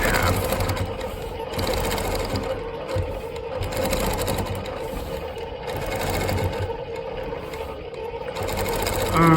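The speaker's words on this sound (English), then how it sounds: "I am outlining the top half" A longarm quilting machine runs steadily, stitching the outline of the top half of a star-and-wishbone quilt with a continuous close whirring hum and rapid needle chatter throughout, no talking.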